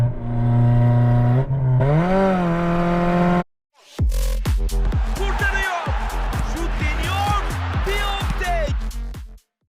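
Honda Civic engine revving in a high gear, a sustained rising drone that cuts out briefly, then returns with a series of rapid rev pulses, with someone talking over it.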